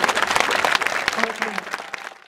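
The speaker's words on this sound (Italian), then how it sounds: "Ci facciamo un applauso" A crowd bursts into applause at a children's palio, an outdoor town festival, with dense clapping that swells briefly and then fades within a couple of seconds.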